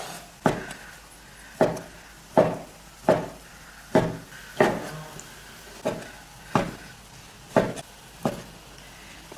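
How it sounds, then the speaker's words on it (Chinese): Beef is chopped into even chunks with a kitchen cleaver on a board, giving about a dozen loud, close, evenly spaced thuds at a steady, unhurried rhythm. "再把牛肉切一下，把牛肉切成大小均匀的块儿。"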